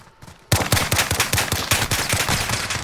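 Rapid automatic gunfire from Call of Duty Modern Warfare in a 2v2 Gunfight match, a dense rattling burst of close, loud shots that starts abruptly after a brief quiet moment and continues steadily.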